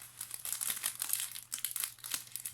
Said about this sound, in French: On va les remettre dans le sachet